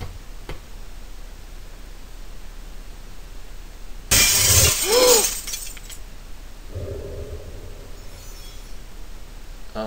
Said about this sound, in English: The stained glass window is shattered.